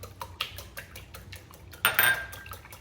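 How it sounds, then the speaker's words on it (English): Egg whisked in a bowl for gluten-free protein brownie batter, giving quick repeated clinks and scrapes of a whisk against the bowl, fairly close and moderately loud, with a louder clatter near the end and no talking. "And 1 egg at a time. Okay, we're gonna whisk that together."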